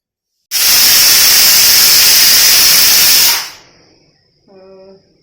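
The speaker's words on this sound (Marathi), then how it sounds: "चार शिट्ट्या झालेल्या आहेत कुकरच्या" A pressure cooker, cooking urad dal amti, lets out a loud, sustained steam whistle lasting about three seconds, then cuts off abruptly into a fading hiss and a short tonal whistle tail.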